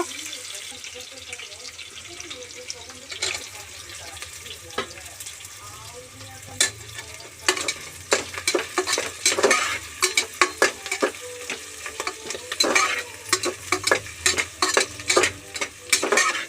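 Boti (goat tripe) frying with fenugreek leaves in a pan for biryani: continuous sizzle, then dense, irregular clattering and scraping of a spoon stirring against the pan that grows louder and busier in the second half.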